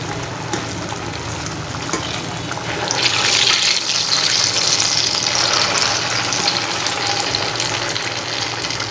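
Potato vadas fry in hot oil, a loud, steady crackling sizzle that swells brighter and hissier partway through as they are flipped, then continues evenly.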